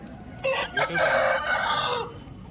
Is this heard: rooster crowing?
yes